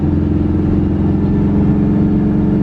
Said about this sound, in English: Now it's straight up misfiring.